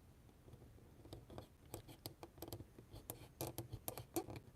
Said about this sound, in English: Let me use my hobby knife to try to cut that off.